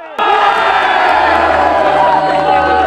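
A crowd cheers and whoops for the finalists at a Planète Sciences event in La Ferté-Bernard, bursting in loudly after a brief quiet moment and holding a dense, sustained roar to the end.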